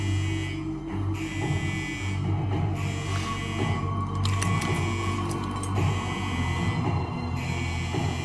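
An alarm buzzer, apparently faulty, sounds aboard an airplane in flight as a steady electronic tone over a constant cabin engine drone, with faint ticking and clicking in the background.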